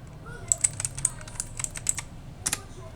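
Rapid clicking of keys on a computer keyboard during a database lesson, irregular bursts of crisp close taps over a low background hum.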